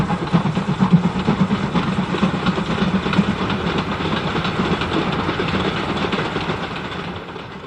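Steam engine Henry runs past in pouring rain, a steady rumbling chuff and rail clatter with a faint rhythmic beat, the hiss of rain spread across the whole span and slowly easing.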